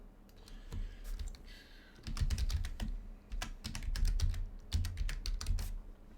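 Fingers type rapidly on a computer keyboard, a dense, continuous clatter of key presses with small bursts and pauses, close and fairly loud, with no voices.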